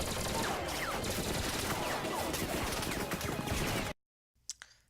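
Movie gunfire rattles in a dense, continuous volley of overlapping shots for about four seconds, then cuts off abruptly into near silence, followed by a couple of faint, brief sounds.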